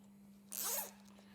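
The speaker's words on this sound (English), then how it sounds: "So I'm going to zip tie it around that factory or the power and ground wire that's going to our amp." A zip tie is zipped tight around factory power and ground wiring feeding an amplifier on a 2014-2021 Harley CVO Street Glide, one quick ratcheting rasp close up over a low steady hum.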